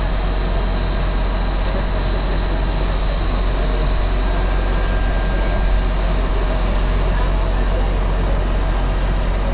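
A Tren Maya passenger train heard from inside, a steady, loud rolling rumble with a faint high whine and occasional soft clicks throughout, unbroken and without any talk.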